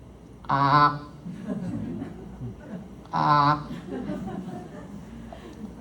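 A voice imitates crows cawing in the morning, making two loud, drawn-out harsh calls spaced a few seconds apart. Quieter speech murmurs between them.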